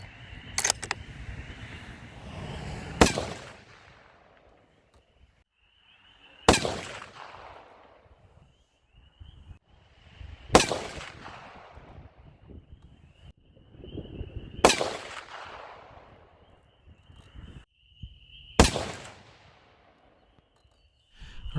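Six sharp, loud rifle shots from a 7mm PRC firing Hornady 160 grain CX bullets loaded with N570 powder, spaced about four seconds apart, each cracking out and ringing off in the open between quiet pauses.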